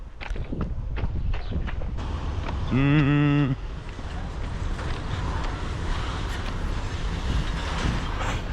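A freight train pulls in nearby with continuous heavy rumbling and rhythmic clacking of cars, plus a brief loud horn blast partway through.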